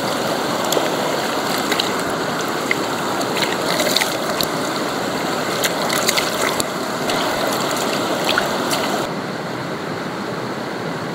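Natural spring water from Mount Merapi wells out of the ground and flows as a stream, a steady close rushing and gurgling wash with bright splashy clicks throughout, no voices.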